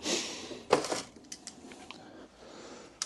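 Rummaging through a workshop box of tools for an old Stanley knife: a sharp clatter of metal and wooden objects knocked together, then a few lighter clinks and taps, close and brief.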